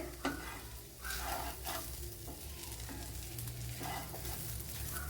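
Eggs frying and being stirred together with ivy gourd in a pan, a steady close sizzle broken by repeated scraping stirs of the spatula, with no talking.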